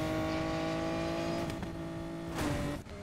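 Nissan Skyline GT-R from 2000 racing fast in Need for Speed Payback, a loud steady engine drone with constant tonal whine, alone and close, swelling briefly near the end.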